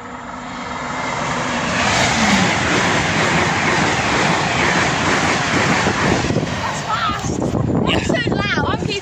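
A train passes on a railway line toward Bristol with a loud, rising rumble that builds over the first couple of seconds and holds steady as it goes by. Voices speak over the end.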